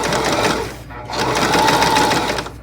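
A sewing machine stitches a dart in fabric with a close, loud, fast mechanical chatter that pauses briefly, then starts again in a second burst.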